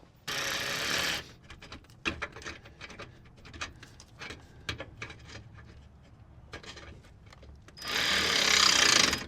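A 10 mm ratchet cranks down radiator bolts on a 1998–2002 Honda Accord, giving close, irregular clicking and metallic taps, with two louder bursts of rapid ratcheting at the start and end.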